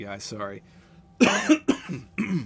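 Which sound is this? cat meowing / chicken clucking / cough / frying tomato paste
cough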